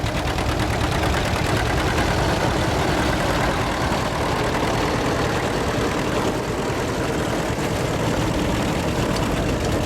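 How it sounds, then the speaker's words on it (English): A 1950 John Deere Model B tractor runs at an antique tractor and plow show, its engine chugging steadily and loudly throughout with no talking. "coming up with a model John Deere B. It's a 1950."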